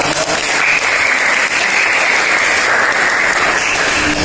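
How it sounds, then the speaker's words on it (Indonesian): Sustained applause from students in a classroom, dense steady clapping that stays loud and even throughout with no pauses. "Beri tepuk tangan buat teman kalian yang sudah."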